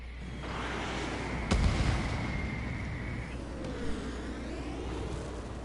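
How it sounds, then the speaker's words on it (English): An incoming missile in the video game Ace Combat 7, flying an F-14 or Su-30 on Hard difficulty: a steady warning tone holds for a few seconds beside a dull thud, over quiet, constant engine rumble. "Here comes a missile."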